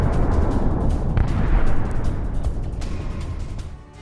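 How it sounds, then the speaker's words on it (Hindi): Israeli air defense intercepting an Iranian missile: a sustained, loud, rumbling roar of blasts and booming fire lasting several seconds, fading slightly toward the end. "ईरानी मिसाइल को मार गिराया है"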